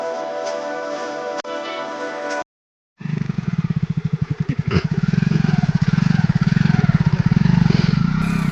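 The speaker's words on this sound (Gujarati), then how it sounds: "બાઇક લઈને જઈશું હું મામા ગામમાં" A motorcycle loaded near a timber truck runs with a steady, close engine drone and rapid pulsing exhaust, cutting out briefly to silence before restarting and revving louder with clattering.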